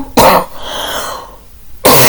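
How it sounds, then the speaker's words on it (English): Two loud, harsh coughs close up, separated by a raspy breath, like a short coughing fit. "gotta have a coughing fit"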